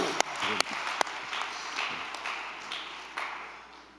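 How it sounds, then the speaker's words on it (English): An audience at a Valley View school board meeting honoring Romeoville High School applauds, with a few sharp, loud claps standing out from the crowd before the clapping tapers off. "That's a loud clap, Zach."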